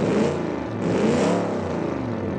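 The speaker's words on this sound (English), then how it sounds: "Yeah, that is a straight eight." A straight-eight car engine built in Automation and driven in the BeamMP driving game revs loudly and steadily, its pitch rising then settling, with a smooth, dense multi-cylinder growl and no talk over it.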